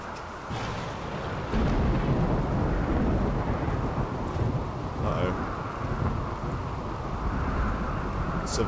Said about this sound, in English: Severe thunder warning.